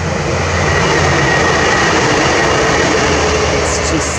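Train rumbles past along a towpath trail near a bald eagle nest, a loud, steady roar of rolling wheels and engine filling the whole stretch without letup.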